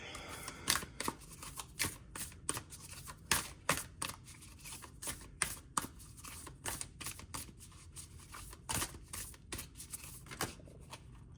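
Tarot cards are shuffled close up in repeated quick riffles and snaps, an irregular run of crisp papery flicks and taps that goes on steadily at low volume with no voices.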